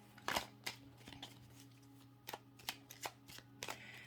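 Tarot cards are shuffled close up in a series of quick riffling bursts, some louder than others, with no talking.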